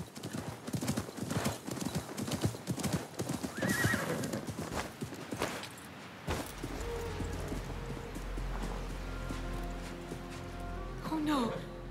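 In Assassin's Creed Mirage, voices and a loud horse neigh in the first half, then steady clip-clopping hooves with another horse whinny near the end.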